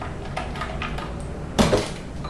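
Beaters are ejected from a hand mixer while making chocolate chip cookie dough, with a sharp metallic clack followed by faint rattling in a quiet kitchen.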